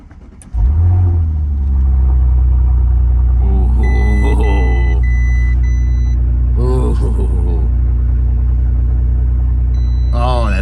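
An Audi S4 engine starts and settles into a deep, loud idle, then is revved several times with rising roars.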